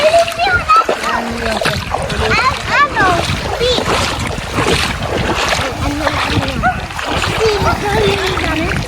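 Friends bathing in a river during a summer outing, splashing water repeatedly and irregularly at close range, with children and adults talking and calling out over the splashes.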